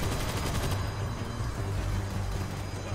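An M249 machine gun fires in World War Z during a zombie horde fight in Russia, a dense, continuous burst of rapid automatic shots that stays loud throughout, mixed with game noise.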